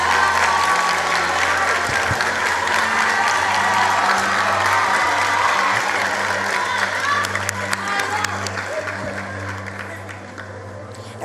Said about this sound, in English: A round of applause for KwaZulu Natal.